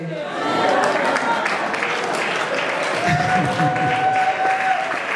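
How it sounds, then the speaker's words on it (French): Audience applause at a religious music gathering, a continuous dense patter of clapping with a sustained tone and voices mixed in during the second half. "On applaudit très bien la sœur ici."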